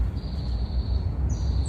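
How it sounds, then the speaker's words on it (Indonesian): Birds call in a quiet city forest in Bekasi, a thin steady high tone with a brief second note near the end over a low constant rumble of distant traffic. "Itu suara burung apa ya?"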